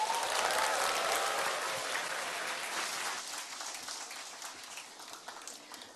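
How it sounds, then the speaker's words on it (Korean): Audience applause at the close of a seminar lecture on business success, a dense roomful of clapping that starts full and gradually thins and fades over several seconds, with no voices over it. "애터미 성공의 길에 대해 열정적으로 강의해주신 이혜정 크라운 마스터님께 큰 박수 부탁드립니다"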